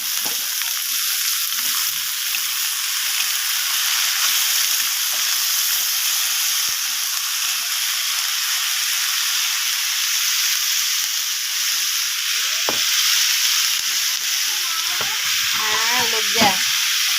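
Potatoes fry in a pan with onions that have already browned, giving a steady loud sizzle with a few scraping stirs near the end and no talking.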